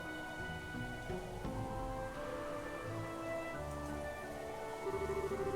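Rain falls steadily in the Trails the 3rd video game, a soft faint patter beneath game music with sustained tones.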